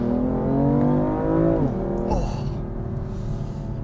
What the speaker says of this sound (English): Like the induction noise of a V8 is just good.